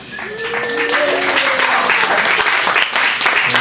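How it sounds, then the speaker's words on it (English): A game show audience gives a thunderous round of applause for the host, dense and loud clapping that carries steadily throughout, with some cheering voices mixed in. "a thunderous round of applause for your host"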